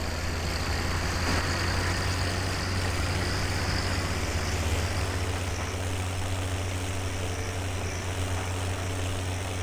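A tractor engine idles and runs in Farming Simulator 17, a steady, unbroken low drone with a constant hum throughout and no speech.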